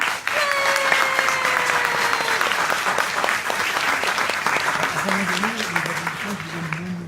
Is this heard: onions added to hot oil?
no